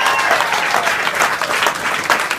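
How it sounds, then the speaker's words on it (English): Audience clapping steadily and loudly throughout at a community gathering in Nairobi, Kenya, a dense continuous applause with no talk over it. "We need to give Jesus a big clap for this."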